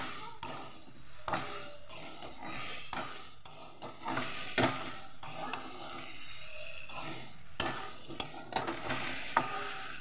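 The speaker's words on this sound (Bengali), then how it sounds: "ডিমটাকে আমি ভালো করে আবার মশলা দিয়ে কষিয়ে নিলাম।" Eggs stir-fried with spice paste for an egg curry, with a continuous sizzle broken by repeated scraping and knocking of a spatula in the pan, close and fairly loud.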